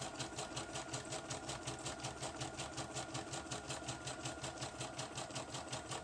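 A sewing machine sewing a zigzag stitch on a junk journal page, its needle tapping in a quick, even, regular pulse close up, running alone without speech.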